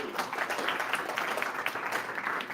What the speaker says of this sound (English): Warm round of applause for FundFlow.